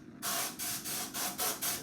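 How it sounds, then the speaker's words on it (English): Black L'Oreal Magic Root hair coverage spray hisses from an aerosol can in several close, loud bursts, each lasting a fraction of a second with brief gaps between them. "I spray a little bit of black."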